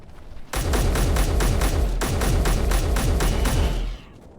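Rapid automatic gunfire in the space-building game Space Engineers, a loud, steady stream of close shots lasting several seconds with a brief break midway, then stopping abruptly.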